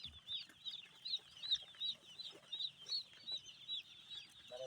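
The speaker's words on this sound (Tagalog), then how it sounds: "Yung sisiw guys, oh." Chicks peep in a cardboard box on a farm, a steady run of high, thin chirps repeating every fraction of a second, close and fairly soft, with no talking.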